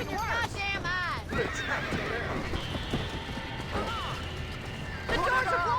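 A horse whinnies over and over inside a burning barn in the video game Red Dead Redemption, its loud, shrill neighs rising and falling amid crackling fire and crashing debris, with people shouting urgently in between.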